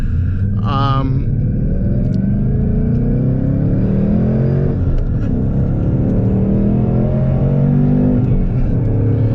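A 2024 Ford Mustang GT V8 with 472 horsepower revs hard and short shifts around 6,000 rpm, a loud continuous engine roar and rumble filling the whole stretch, with a brief sharper burst near the start.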